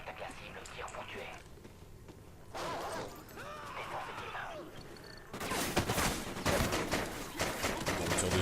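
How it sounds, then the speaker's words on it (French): Gunfire crackles in a Call of Duty: Ghosts battle, with scattered shots early and dense, rapid volleys toward the end, mixed with game voices and other action sounds. "On tire dessus, moi je tire."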